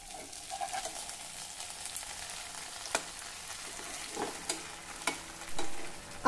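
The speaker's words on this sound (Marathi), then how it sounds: "आता हे भानोळ आपण या बाजूने देखील भाजून घेऊ" Cabbage bhanole roasts in a pan over low heat, giving a soft steady sizzle with occasional sharp clicks and scrapes as the pan and spatula are handled.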